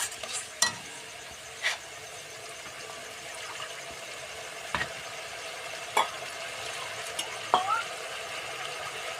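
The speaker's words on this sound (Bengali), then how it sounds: "নেড়ে চেড়ে ভালো করে জলটাকে মিশিয়ে নিব মশলার সঙ্গে" Water being stirred into cooked spice masala in a pan, a soft faint sizzle with occasional sharp spatula scrapes and taps against the pan at irregular intervals, quiet and close.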